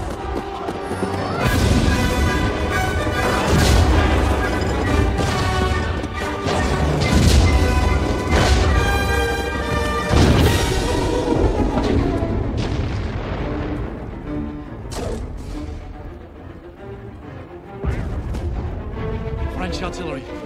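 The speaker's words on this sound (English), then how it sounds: "French artillery. Very impressive." French artillery fire on a World War I battlefield near the trenches, a dense barrage of booms and crashes rolling continuously for about twenty seconds, loud and close, with a fresh heavy blast near the end.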